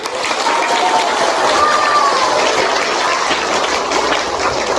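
Sustained audience applause at a community outreach program honoring soldiers, a steady broad wash of clapping running throughout with a faint voice audible underneath.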